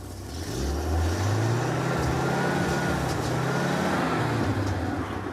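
A car engine revs up, its tone rising and holding loud before easing back down.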